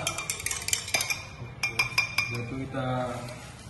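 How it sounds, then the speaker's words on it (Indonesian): Spoon stirring sugar into a solution in a glass, giving a series of bright metallic clinks and taps against the glass, fairly faint and close, with a person speaking at times. "Lalu kita campurkan gulanya. Kemudian kita aduk dengan rata."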